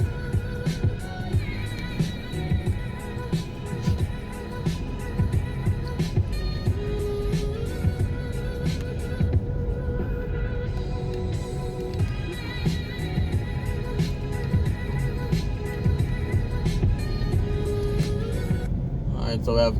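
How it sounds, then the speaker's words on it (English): A car drives through the town of Old Harbour, Jamaica, its steady road rumble continuous underneath, with music playing and a voice talking over it throughout. "So we're just driving through the town"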